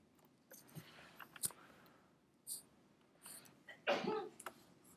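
A short, quiet sneeze-like burst followed by a louder one a moment later, in a quiet room with soft clicks and scratching sounds between them.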